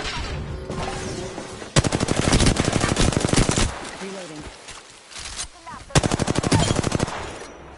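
Rapid automatic gunfire in the Apex Legends video game, two loud sustained bursts separated by quieter stretches, with brief voice callouts between the shots.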